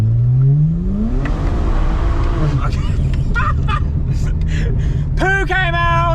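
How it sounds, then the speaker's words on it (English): Drag-tuned street car with an automatic transmission roaring through the gears while the wheels spin and lose traction, the engine rising in pitch, dropping and climbing again loudly up close, with people talking over it. "going through the gears with a loss of traction"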